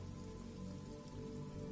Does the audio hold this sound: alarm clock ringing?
no